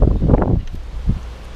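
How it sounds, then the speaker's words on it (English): Wind gusting outdoors at an open beehive while frames are handled, a short rushing gust that swells loud at first and then drops to a softer, steady background blow. "beekeeping in wind"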